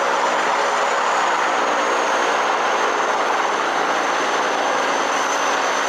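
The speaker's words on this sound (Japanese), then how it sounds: "このヘリは、アイロスパシアルが開発した AS350D3E という機種です。" An Aérospatiale AS350 B3e helicopter at Lukla Airport gives a steady, loud broadband rotor and turbine roar that holds evenly throughout, with no talk.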